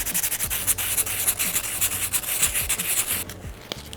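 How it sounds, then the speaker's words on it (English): Steady rhythmic sanding of Renault 5 GT Turbo engine valves, a rough abrasive rubbing scratched back and forth on metal, close up and continuous before stopping near the end. "So I'm going to sand this one"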